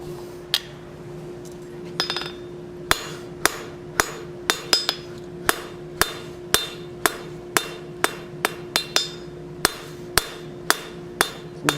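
A blacksmith hammers hot steel to draw out a six-inch taper on a plant hanger, sharp ringing strikes in a steady rhythm, about sixteen blows, close and loud over a constant low hum.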